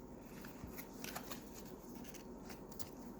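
Tarot cards are shuffled close up in a steady, soft riffling patter with quick flicks, quiet and continuous with no talk.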